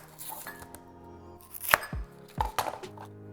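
A knife chops a large onion on a kitchen board: a handful of crisp, separate cuts with pauses between them, close and fairly quiet, with no talking.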